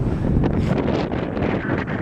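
Strong wind buffets the microphone outdoors on a cold, high vantage point, a loud continuous rumbling roar with gusty swells throughout and no voices.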